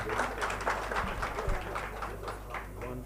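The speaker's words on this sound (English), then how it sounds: "Could we clap for them?" Audience clapping after a call to applaud guests at a Kenyan live-streamed event: a fairly quiet, steady patter of many hands with voices murmuring underneath.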